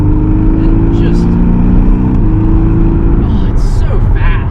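Porsche 718 Cayman S engine revving hard under acceleration, with loud rising harmonics and a drop at a gear shift partway through, running steadily beneath a person talking over it.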